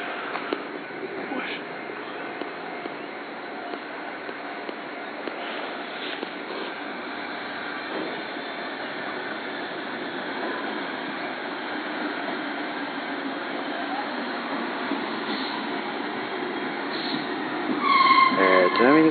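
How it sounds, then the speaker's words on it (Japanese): A Tobu 8000 series commuter train rumbles steadily into Kashiwa Station in Japan, its noise building toward the end, with brief squeaks and indistinct background sounds. "2番線に下り電車が参ります。 電車が来ますね。"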